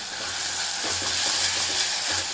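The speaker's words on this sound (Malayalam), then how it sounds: "ഇഞ്ചിയും വെളുത്തുള്ളിയും ചുവന്നുള്ളിയും കൂടെ ആണ് അപ്പോൾ അതുകൂടെ ഒന്ന് ചേർത്ത് കൊടുത്ത് ഒന്ന് വഴറ്റിയെടുക്കാം" Ginger, garlic and shallots for a Kerala-style fish curry are sautéed in hot oil, giving a continuous bright sizzle with low rhythmic stirring scrapes, close and steady, with no talk.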